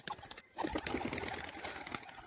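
A domestic house pigeon coos in soft, low, repeated calls amid faint background noise, heard fairly close, with no one speaking.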